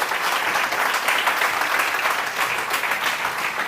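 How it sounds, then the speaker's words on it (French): An audience at a tech week event claps loudly together, a dense, sustained burst of applause that holds steady throughout. "Je crois qu'on peut les applaudir vraiment très fort"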